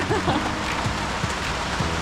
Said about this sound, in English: The rain caught us in the middle of the road.